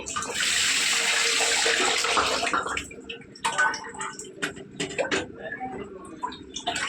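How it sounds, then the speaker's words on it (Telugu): About a cup of water is poured into a pan of mushroom egg masala curry, a steady rushing splash lasting a couple of seconds, followed by quieter clinks and stirring sounds at close range. "ఇప్పుడు నేను ఇంకో కప్పు వాటర్ దాకా వేసుకున్నాను"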